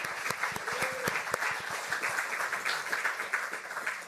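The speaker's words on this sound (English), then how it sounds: "let's give her a round of applause" Audience applause welcoming a speaker to the stage at an archive launch event, a few sharp distinct claps up front swelling into steady sustained clapping from a moderately sized crowd.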